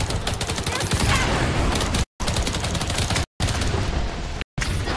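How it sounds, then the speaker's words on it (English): Continuous rapid automatic gunfire while shooting at aliens in the video game Earthfall, loud sustained bursts broken by brief silent gaps. "Shoot at the aliens, not us."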